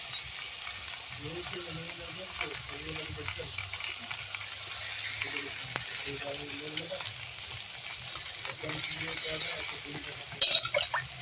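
Tomato and lemon go into greens frying in a pan, giving a continuous hissing sizzle with occasional clinks and stirring, while a voice talks over the cooking throughout.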